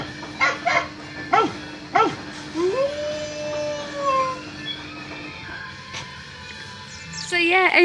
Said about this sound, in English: Okay, here's dog bark.